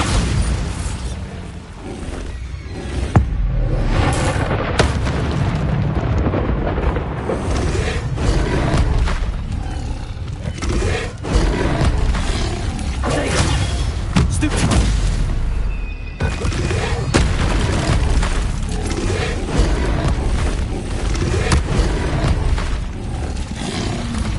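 Repeated Bombarda blasting spells from the Hogwarts Legacy video game boom and roar in dense succession, with loud explosive bursts and rumbling debris piling up steadily with no pauses.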